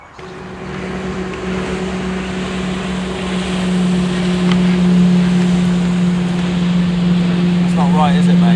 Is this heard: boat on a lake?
yes